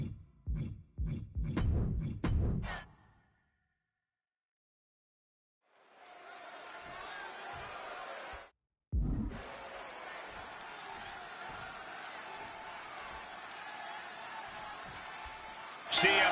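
Arena crowd noise in the WWE 2K26 video game at a Chicago show, with CM Punk facing Eddie Guerrero. A few heavy thuds and a pause give way to a sustained, loud roar of cheering that swells and holds.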